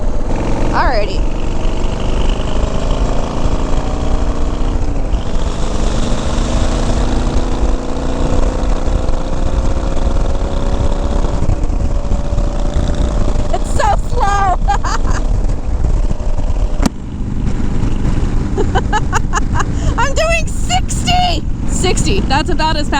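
A Harley-Davidson Sportster motorcycle engine rumbles while riding, loud and close with heavy wind buffeting over the microphone, engine pitch rising and falling as it accelerates, with brief voice-like bursts near the end.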